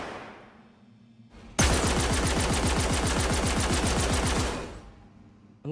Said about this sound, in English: Alongside the first-person weapon sounds, we also recorded the weapons at various distances.